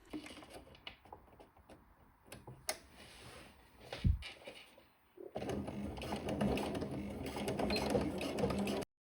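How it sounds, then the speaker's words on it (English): A domestic sewing machine runs a straight stitch with backstitching across an elastic waistband on a jersey skirt, starting in short stuttering bursts and pauses, then settling into a steady, loud whirring run near the end. "sew a straight stitch with a back stitch at the start and end"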